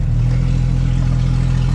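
A loud Jeep Wrangler 4.0 engine with bolt-on parts drones close by on a dyno with a steady, throaty low rumble like a stock car and a slight rhythmic pulse, sustained without a clear rise in revs.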